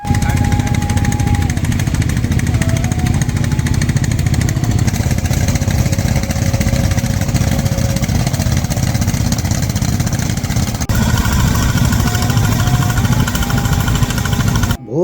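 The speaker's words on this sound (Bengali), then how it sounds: "নৌকার মেশিন চলার ভট ভট শব্দে ভোর" A motor boat engine putters continuously with a steady rapid chugging throb, close and loud throughout, with a high whine drifting over it, at dawn on Tanguar Haor wetland, Sunamganj, Bangladesh.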